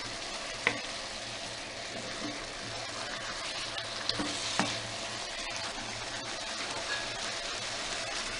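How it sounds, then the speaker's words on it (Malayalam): Achari chicken, a Rajasthani North Indian dish, sizzles steadily in a pan while it is stirred, with a few sharp clicks of the spoon against the pan over the continuous frying hiss. "എല്ലാ ഭാഗത്തും നന്നായിട്ട് മിക്സ് ആവണം ചിക്കൻ."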